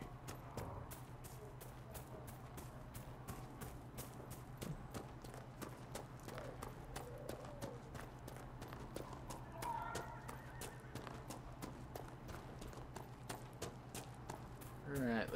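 Horses trot in Dragon Age Inquisition, their hooves clip-clopping in a steady rapid rhythm throughout, close and continuous over a low ambient hum, with occasional game sounds.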